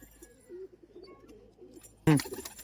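A male Madrasi pigeon gives a low, soft, rolling coo for a couple of seconds, followed by a sudden louder, sharper sound at the end, with no voices.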